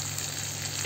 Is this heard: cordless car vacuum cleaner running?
no